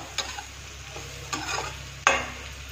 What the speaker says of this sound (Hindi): एक मिनट तक इसी तरह से हम भून लेते हैं उलट पलट के